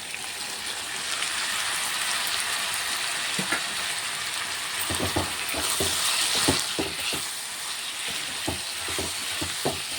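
Tomatoes frying with ginger-garlic paste in a pan, a steady sizzle throughout with a run of spoon scrapes and clatters in the second half as everything is stirred together.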